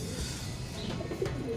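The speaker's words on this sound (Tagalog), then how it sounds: "hindi ko nakita dumating ibon natin" Racing pigeons coo at the loft during a race lap from Tagudin, Ilocos: soft, low, repeated coos close by, steady background noise, with no talking.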